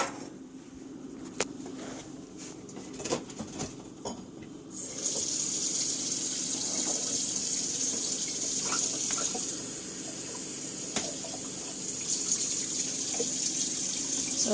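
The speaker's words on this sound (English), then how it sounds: "I just filled it with water from the sink" Tap water runs steadily from a kitchen sink faucet into a half-cup container, a close hissing gush that starts after a few seconds of quieter kitchen sounds and continues evenly to the end.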